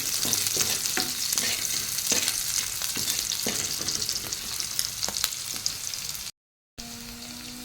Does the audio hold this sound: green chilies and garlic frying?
yes